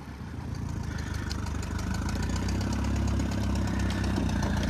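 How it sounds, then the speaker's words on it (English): A half-track tractor engine works steadily under load while skidding logs through mud, a continuous low mechanical drone with a knocking pulse, close and loud throughout with no talk. "Tractor's in the mud there, but it doesn't care."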